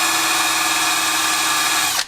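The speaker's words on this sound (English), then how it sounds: "come in here with a little wire wheel on a drill" A small wire wheel spun by a drill scrubs a brake caliper bracket on a long-stored muscle car, giving a steady, loud, bright whirring grind for about two seconds before it abruptly stops.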